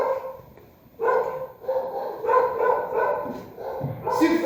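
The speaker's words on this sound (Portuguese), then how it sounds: "O cachorro está bravo" A dog barks in repeated loud, agitated bursts, fairly close, with a higher yip near the end.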